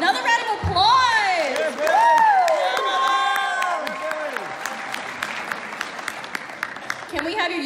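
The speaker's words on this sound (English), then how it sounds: "Another round of applause!" Audience at a beatboxing talent show bursts into loud, sustained applause and cheering, with whoops and shouted voices rising over the clapping throughout.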